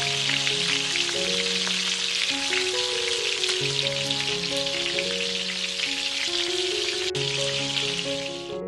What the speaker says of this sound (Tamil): இந்த வெங்காயம் எண்ணெயில வதங்கி சட்னி மேல சலசலன்னு விழும்போது ஒரு வாசம் வரும் பாருங்க